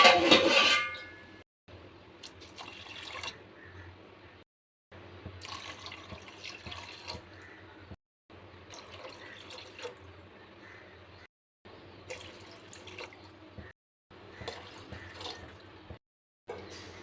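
Water is poured from a glass into a cooking pot for tomato rice in a series of separate pours, each a few seconds long with short silent gaps between, close and moderate.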